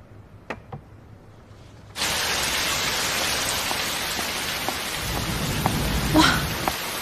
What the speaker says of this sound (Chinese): 啊，下这么大雨